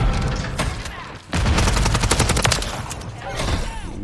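Rapid automatic gunfire and bursts in the video game Modern Warfare 3, loud dense volleys with a brief pause, then sustained shooting and booms close up, with faint voices underneath.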